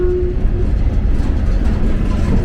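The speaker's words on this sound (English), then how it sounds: "it's causing trains like this to be rerouted through the Loyal train yard here in Harlan County." Rerouted train passing through the Loyal train yard in Harlan County, a loud close steady rumble of rolling cars with a brief tonal squeal at the start, no speech.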